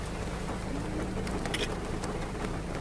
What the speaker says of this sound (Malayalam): ഈ ഭാഗത്ത് നല്ല മഴയാണ്